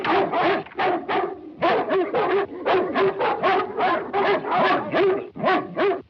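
A dog in a classic movie barks and whimpers in a quick, excited series of yelps and whines, loud and close, with hardly any pause.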